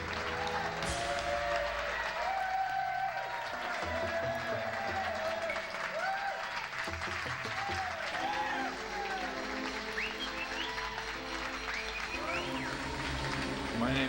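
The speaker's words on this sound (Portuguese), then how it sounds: "vamos aplaudir o comediante" An audience at a comedy show claps and cheers for a comedian in a dense, sustained wash of applause, with voices and music mixed in throughout.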